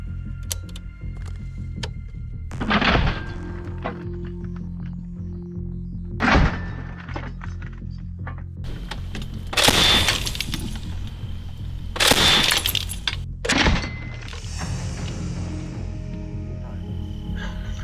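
An MK-19 automatic grenade launcher used by border guards against infantry fires in several separate heavy thumping bursts, loud and close, each followed by a lingering rumble over a steady low background.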